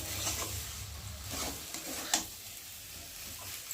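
A spoon stirs a spiced potato and pea curry in a pan, scraping and clinking in a few uneven strokes over a soft, steady sizzle, with one sharper knock near the middle.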